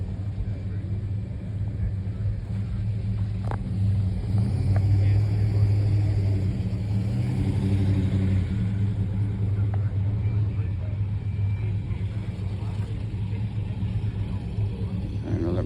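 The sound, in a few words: cars rumbling at a Camaro club meet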